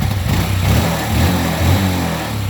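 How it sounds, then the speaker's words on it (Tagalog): A Honda Wave CX 110 motorcycle engine idles close by with a steady low, throbbing putter, slightly pulsing in level; the bike's owner says it runs roughly like galloping when ridden. "pakinggan nyo mga bro yung makina kung gaano kaganda"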